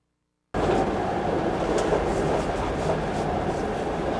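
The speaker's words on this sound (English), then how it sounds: "we're on the train from Salzburg to Munich" A steady rumbling roar fills the inside of a train running from Salzburg to Munich, starting abruptly after a moment of silence and continuing evenly with faint rattles.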